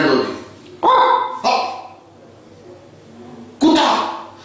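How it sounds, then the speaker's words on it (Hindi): A dog gives three short barks, two close together and one after a pause, mixed in with people talking nearby. "कुत्ता"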